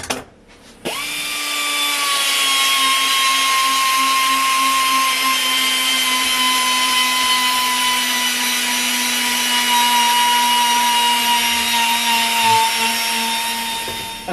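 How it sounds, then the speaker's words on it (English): An emery roll spun by a power tool finishes a metal part from a Mopar 318 engine, giving a steady, loud, high whine that holds evenly for over ten seconds after a brief spin-up. "So we will finish this with an emery roll."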